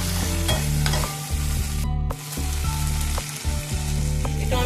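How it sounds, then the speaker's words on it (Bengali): Ginger-garlic paste, green chilli and tomato frying in a pan for chilli fish, stirred steadily with a spoon scraping and clanking against the metal, over a constant loud sizzle with a brief pause partway through. "আদা রসুন কাঁচা লঙ্কা এটাও দিয়ে দিলাম দিয়ে আমি নাড়বো"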